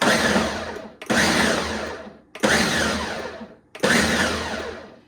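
A Ninja Professional Blender Gen 2 pulsing: four loud whirring bursts of roughly a second each, every one starting abruptly and winding down, separated by brief near-silent gaps, close up with no talking.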